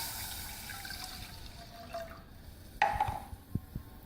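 One and a half cups of water are poured into a pan while making syrup for semolina halwa, a soft gushing pour that fades, followed by a few faint drips and clinks in a quiet kitchen.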